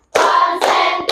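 A class of students claps together in a short rhythmic pattern: two quick bursts of many hands close by, crisp and loud, with a final clap at the end.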